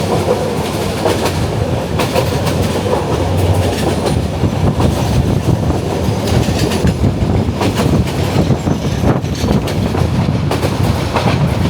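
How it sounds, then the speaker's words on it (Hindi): A passenger train arriving near Chittagong, Bangladesh rumbles steadily with rhythmic clickety-clack of wheels over rail joints, heard from inside as it slows, continuous and fairly loud with no speech. "ट्रेन स्लो हो चुकी है।"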